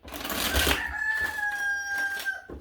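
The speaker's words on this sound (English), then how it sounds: "Don't mind the rooster." A rooster crows once, loud and close, a long drawn-out call that rises and then trails off.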